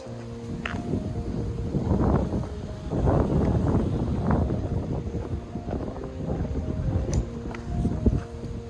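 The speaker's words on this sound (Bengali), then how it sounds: "খুব সুন্দর বাতাস" Gusts of wind buffet the microphone in low, rumbling bursts that rise and fall, with the wind loud and close throughout.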